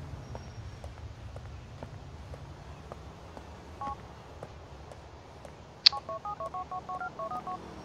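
A mobile phone is dialed in Grand Theft Auto 4, a rapid series of short electronic keypad beeps near the end, preceded by faint regular footsteps and quiet background game ambience, with no talk.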